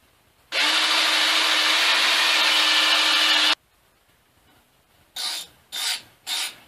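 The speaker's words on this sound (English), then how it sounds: "Now we'll drill out and put the second one in there." A power drill grinds continuously into wood for a lag bolt hole while building a lathe stand, about three seconds, stops, then fires off three short bursts, close and loud.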